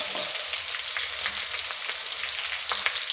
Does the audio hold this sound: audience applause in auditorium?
no